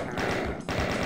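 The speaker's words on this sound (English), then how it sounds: "Freaking minigun. Nothing like a good minigun, you know? Sound effect kind of sucks on this gun" A minigun in the classic game Doom fires a continuous rapid burst of gunfire, dense and loud with a brief dip midway before resuming, heard alone without talk.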